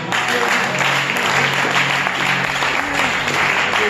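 A church congregation at a Sunday family service applauds steadily and loudly, a dense wash of clapping filling the whole stretch with no break.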